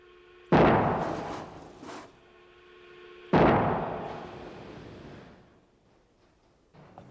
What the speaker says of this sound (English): it sounds like an explosion